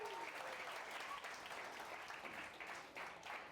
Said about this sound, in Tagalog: Pumalakpak nga po.